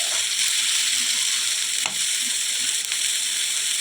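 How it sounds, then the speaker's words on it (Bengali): Chopped green chillies and onion fry in hot oil with garlic for a stuffed bitter gourd dish, giving a loud, continuous close sizzle with a couple of brief scraping stirs. "এখন অ্যাড করে দিচ্ছি কুচনো লঙ্কা, ভালো করে ভেজে নিচ্ছি"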